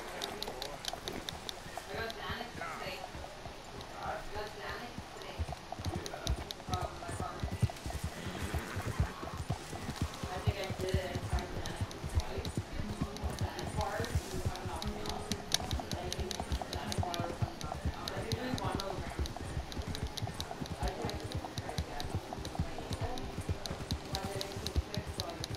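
Horse hooves clop and gallop in Red Dead Redemption 2, a steady rhythmic pounding under continuous game music and effects, with a person talking over it.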